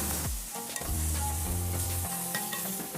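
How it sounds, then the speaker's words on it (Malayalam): Beef pieces sizzle in hot oil with spice masala in a home curry pan, a steady close crackle broken by scraping stirs and clinks of the spoon against the pan, with no one speaking. "നമ്മുടെ ബീഫ് നമുക്ക് അതിലേക്ക് ഇട്ട് കൊടുക്കാം കേട്ടോ. ബീഫ് നന്നായിട്ട് എന്നിട്ട് നമ്മൾ മിക്സ് ചെയ്ത് കൊടുക്കാം."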